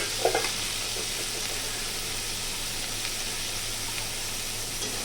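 Chopped onions frying in oil in a pan, a steady low sizzle with a few soft stirring clicks near the start, fairly quiet and continuous with a faint background hum.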